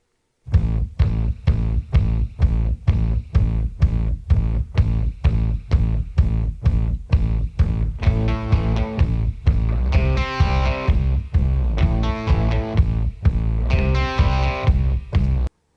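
A song plays, with a steady, evenly spaced drum-and-bass pulse soaked in spring reverb and distorted guitar swelling in near the middle.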